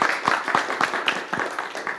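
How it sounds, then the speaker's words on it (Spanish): Sparse, steady clapping from a small audience at the close of a conference session on medicine purchasing, with evenly spaced claps over soft room noise. "Un aplauso"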